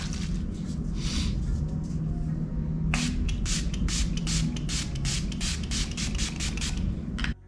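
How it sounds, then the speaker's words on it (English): Milani Make It Last setting spray is misted onto a face in a rapid series of short, crisp spritzes, heard close over a constant background hiss. "Spritz my face, so you are drenching your face with this."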